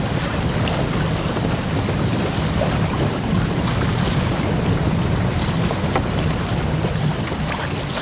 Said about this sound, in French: Écoute le bruit des vagues.